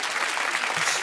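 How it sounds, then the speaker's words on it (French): Brief burst of audience clapping in a live comedy press-review show, dense and even for about a second. "On peut m'applaudir."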